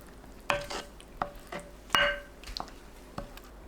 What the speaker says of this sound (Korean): 식은 마늘에 꿀 넣고 섞어주세요